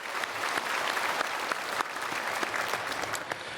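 A church congregation gives a sustained round of applause during a Sunday worship service, many hands clapping densely and steadily at moderate volume.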